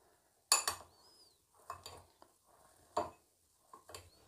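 A metal spoon clinks and scrapes against a pan while mixing chaat masala, red chilli powder and kasuri methi into vegetables, in a few separate bursts of knocks and stirring, close and fairly quiet, with no talking.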